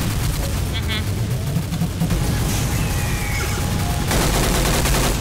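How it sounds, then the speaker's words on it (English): Heavy continuous gunfire from a monolith boss during a video game event, dense loud bursts and booms filling the moment without pause and growing louder near the end. "the monolith does shoot from the sky"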